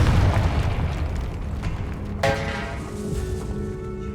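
The Confringo fire spell in Hogwarts Legacy bursts with a deep, loud boom inside a tomb, its low rumble rolling and fading over several seconds, with a sharp crackle partway through.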